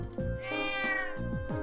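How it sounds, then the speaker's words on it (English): A cat meows in the Trails of Cold Steel video game, a few clear, drawn-out cries in quick succession, close and fairly loud with no talk over them. "It says meow for me."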